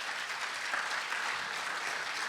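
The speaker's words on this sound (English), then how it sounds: "Please, round of applause." Audience at a summit of first ladies and gentlemen breaks into dense, steady applause, a sustained wash of many hands clapping evenly from start to finish with no voices on top.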